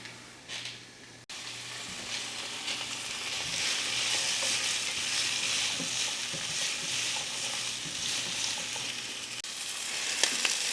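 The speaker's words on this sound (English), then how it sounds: "I'm gonna saute my peppers and onions on the stovetop and get those really nice and soft" Peppers and onions sautéing in a pan on a stovetop, a bright continuous sizzle that swells after a short pause, with occasional stirring scrapes and a faint low hum beneath.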